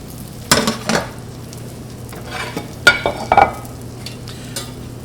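Crab cakes frying in a very hot pan at about 500 degrees, a soft steady sizzle underneath with several sharp scrapes and clanks of utensils against the pan, close and without speech.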